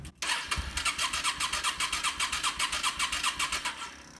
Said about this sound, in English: now I'll hit the starter and we'll look for spark